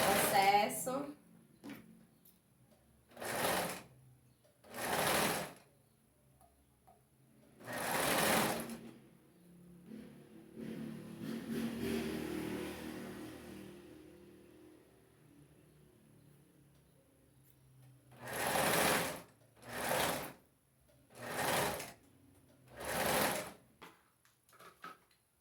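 A sewing machine stitches a skirt, backstitching in several short, separate bursts of rapid whirring with quiet gaps and soft handling noise between them.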